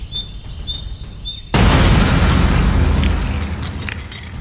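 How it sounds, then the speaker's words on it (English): A powerful explosion in Romania bursts in as a sudden loud boom after quiet birdsong, then a long broadband roar and rumble that slowly fades. "An explosion in Romania was so powerful that nearby houses shook violently."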